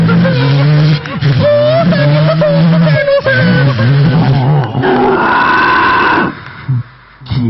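A mimicry artist on stage imitates dinosaur sounds from the Jurassic Park trailer with his voice, producing loud, continuous guttural growls and rumbling roars that rise into a higher screeching cry before cutting off.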